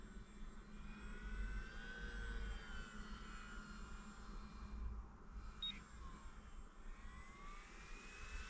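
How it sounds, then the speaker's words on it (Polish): A Multiplex Tucan electric model airplane flying outdoors, its steady motor whine droning continuously at moderate distance, with a slight drift in pitch as it passes. "także spokojnie latający samolocik"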